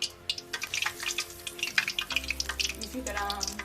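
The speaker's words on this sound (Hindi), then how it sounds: "अब हम इनको करते हैं डीप फ्राई। घी हमारा अच्छे से गर्म हो चुका है, अब हम इसमें पीस डालेंगे।" Potato pieces deep frying in hot ghee give off bubbling, crackling sizzles with irregular spits and pops, close up, while a voice talks faintly underneath.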